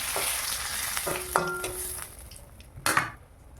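Cumin, dried chilli and bay leaf fry in hot oil with a soft, steady sizzle, broken by a few sharp clinks and scrapes of a spoon against the pan at close range.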